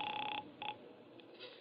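Touch-tone dialing on a phone in a booth at an all-night drugstore, a short run of two steady tones followed by a brief second press and faint later beeps, close and clear in a radio drama.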